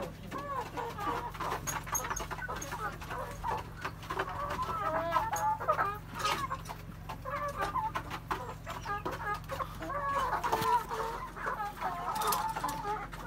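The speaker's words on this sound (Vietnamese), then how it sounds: "Gà này chưa cho ăn à?" Many chickens on a chicken farm cluck constantly, near and far, in a busy overlapping chatter with faint talk underneath.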